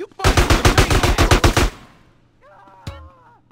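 Rapid automatic gunfire from the video game GTA San Andreas plays as a loud burst of about a dozen close shots, then fades into quieter game noise with a brief sharp sound near the end.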